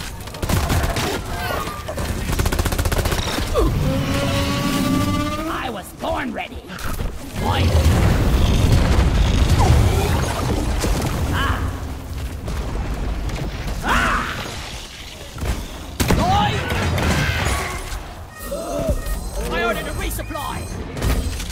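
Gunfire and explosions in the Deep Rock Galactic video game, with rapid bursts, booms and mechanical clanks packed densely together during a solo scout speedrun, while people talk over the action.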